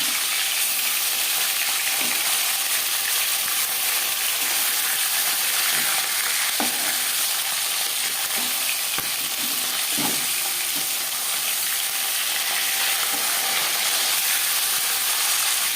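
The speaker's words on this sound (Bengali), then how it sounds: "আমি মাছ দিয়ে ফ্রাই করছি" Bhangar fish frying in hot oil in a pan, a steady dense sizzle and crackle running throughout with occasional soft clinks, close and fairly loud with no talking.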